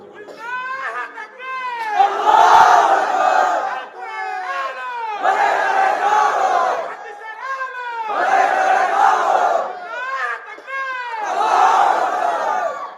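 A large crowd at a Bangladeshi Islamic sermon gathering answers a leader's call with loud, repeated unison shouts of takbir, four surging waves of massed voices separated by short pauses, echoing in a large outdoor space.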